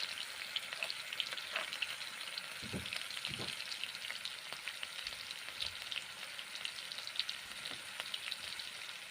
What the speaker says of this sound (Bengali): নেড়ে চেড়ে মশলা কষে নিচ্ছি সামান্য জল দিয়ে